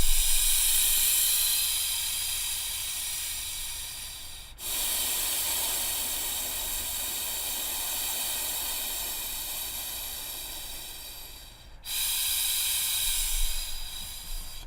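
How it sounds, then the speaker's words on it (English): Long, deep breaths run through an open didgeridoo, a close, airy hiss that holds steady. Two short breaks split it into three drawn-out inhales and exhales. "I'm going to take a few inhales and exhales."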